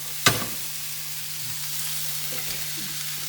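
Red, yellow and green peppers frying in a hot pan, a sharp sizzle burst as they hit the oil or get tossed, then a soft, steady crackle with faint stirring clatter.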